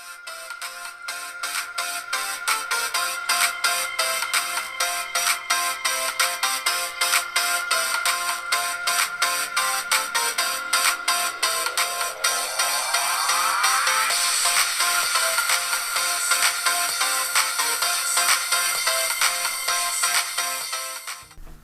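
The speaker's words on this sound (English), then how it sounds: "to give you a rough idea of how the iPod Touch speaker performs, just go ahead and take a listen to it in action." A sixth-generation iPod Touch plays a ringtone-like electronic melody through its small built-in speaker, a bright, repetitive tune with a rising sweep midway, loud and continuous with no talking.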